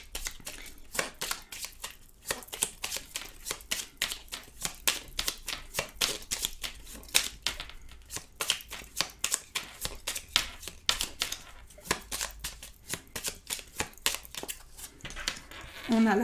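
Small Lenormand oracle cards are shuffled in rapid, irregular riffling bursts, close and fairly quiet, continuing steadily with no voice over them.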